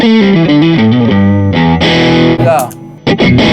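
A Gibson SG with P90 pickups plays through a RAT-style distortion pedal in a series pedalboard. Loud, crushed, fuzzy single notes step through a short riff, then ring into thick, gritty chords that are cut off in abrupt stabs.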